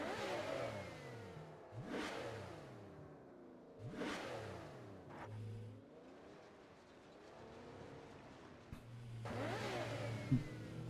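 A car engine in the mobile game PUBG Mobile revs repeatedly, rising and falling in waves with sharp acceleration bursts and brief drops, close and steady throughout.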